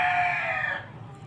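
A rooster crows once, loud and close, in a home yard where pomegranate trees stand after a night storm. The crow holds steady, then cuts off abruptly, leaving faint low background hum.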